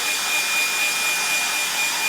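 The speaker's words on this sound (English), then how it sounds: "drying with my hairdryer" A hairdryer blows with a steady, even broadband whoosh, close and constant, with a faint whine running through it and no voices.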